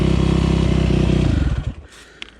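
A 2008 Yamaha YZ250F four-stroke dirt bike being ridden, its engine droning loud and close with a steady buzzing pitch, then dropping off and fading away after about a second and a half, followed by a faint clatter.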